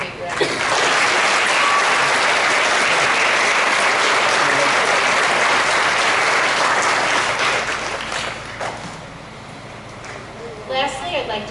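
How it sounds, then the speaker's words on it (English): Sustained applause from an audience at a school ceremony, loud and dense for most of the stretch before thinning toward the end. "So I want to give all of those people a big round of applause."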